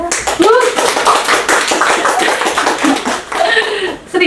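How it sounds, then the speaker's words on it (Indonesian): Group of students applauding a presentation, steady brisk clapping under overlapping talk and some laughter, fairly loud and close. "Guys, kasih tepuk tangan guys."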